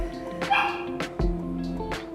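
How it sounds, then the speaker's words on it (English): A dog stuck under a couch barks and yips several times, loud and close, over a steady low indoor hum. "Is that my dog?"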